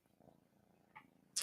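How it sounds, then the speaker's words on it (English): A cat purrs softly in a faint, low rumble over a quiet background for about a second, then a brief, brighter noise cuts in at the end. "Yeah, purr purr purr."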